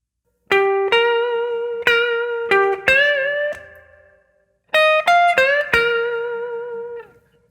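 An electric guitar plays a short blues lick in two phrases, with clean picked notes and bends ringing out, then a pause and a final sustained note.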